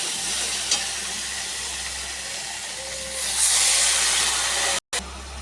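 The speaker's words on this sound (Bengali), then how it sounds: "এবার আর একটুখানি সাঁতলে নিয়ে অল্প ঝোল দিয়ে দেবো" Gathi kochu (taro) sautéing in a pan gives a steady, moderate sizzle that swells into a louder hiss partway through and cuts out briefly near the end.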